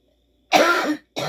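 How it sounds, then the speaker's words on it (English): Two close, harsh coughs from an adult, a longer one followed quickly by a shorter one, in a quiet room. "My cough gets a little more aggravated"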